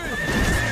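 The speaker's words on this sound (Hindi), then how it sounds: "Horse टॉसो, jump." A cartoon horse gives a loud, close neigh over a whinny, with clip-clop hoofbeats mixed into the busy animated soundtrack.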